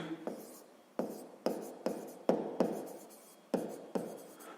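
Pen writing by hand on paper during a sixth-grade maths exercise, in short bursts of scratchy strokes with taps at each new stroke, close and fairly quiet, with no talking.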